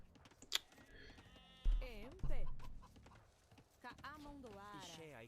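Sheep bleating in the video game Age of Empires II, a few wavering bleats mixed with other farm animal noises and clip-clop, under someone talking.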